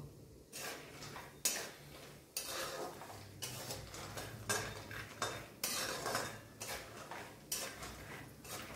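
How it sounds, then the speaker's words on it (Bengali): Peanuts fry in a few spoons of oil in a pan, stirred in repeated rattling, scraping strokes that come quietly and rhythmically with a faint sizzle underneath. "তেল দিয়ে দিলাম। দিয়ে এবার বাদামটা ভেজে নেব।"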